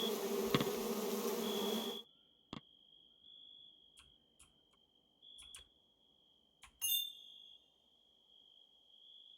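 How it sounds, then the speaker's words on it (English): Bees buzz in the medieval colony-building game Going Medieval, a thin steady whine after a brief burst of louder noise, broken by a few soft clicks and dings, with no voices. "I hear the bees."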